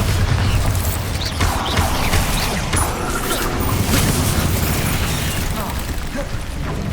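Spell explosions from Confringo and Bombarda during combat in the Hogwarts Legacy video game: dense, continuous blasts and crackling bursts fill the scene at high volume with no pauses.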